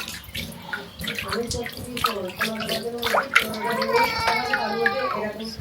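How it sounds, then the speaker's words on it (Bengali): Raw meat being washed by hand in water, with splashing and sloshing that builds toward the end while a person talks over it. "এই যে আমার মাংস ধোয়া হয়ে গেছে"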